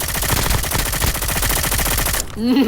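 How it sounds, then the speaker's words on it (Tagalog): Rapid, sustained video game gunfire rattles loudly and densely throughout, cutting off near the end where a brief voice sounds. "Bumabaril-baril-baril ka pa dyan, pre"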